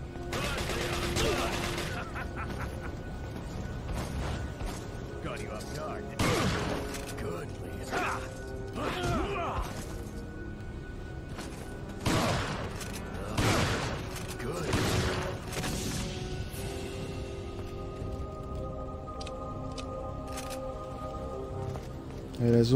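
Shotgun blasts in Resident Evil 4 HD, several separate heavy shots spaced apart amid mechanical clicks and reloads, with someone talking in French between them.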